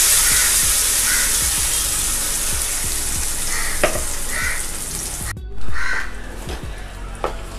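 Chopped tomatoes hit hot oil in a pan for tomato thokku, a Tamil-style tomato chutney. A loud, steady hiss of frying runs throughout, with a few sharp crackles and a brief dip and rise in the sizzle near the end.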